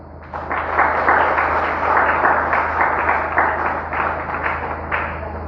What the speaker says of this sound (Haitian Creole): Baille ton applaudissement.